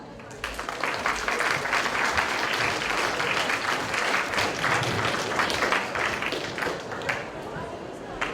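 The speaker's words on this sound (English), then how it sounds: "so watch carefully and applaud loudly for Chef Michel Lemoine." An audience at The France Show 2015 applauds a chef's cooking demonstration with sustained, dense clapping that runs steadily for several seconds at close range, a voice briefly audible underneath.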